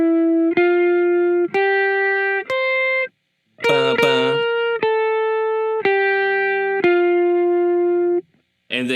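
Electric guitar with effects and distortion for a worship song, playing a series of sustained, evenly spaced chord accents with short gaps between them, one strummed burst in the middle, clear and loud.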